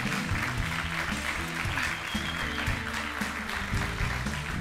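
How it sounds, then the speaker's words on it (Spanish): Applause breaks out for a toast on a talk show, a bright patter of clapping layered over loud, rhythmic backing music throughout. "Un aplauso por el brindis"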